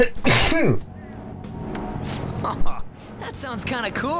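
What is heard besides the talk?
sneeze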